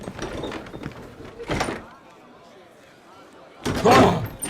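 A door slams shut with a broadband thud near the start, and another bang follows later, with muffled voices and room noise between the impacts.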